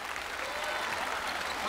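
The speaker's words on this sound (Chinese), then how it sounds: "来，掌声我们给李耀强。" A crowd in a studio applauds basketball player Li Yaoqiang during a televised 3x3 basketball competition, a brief, dense burst of clapping that holds steady throughout.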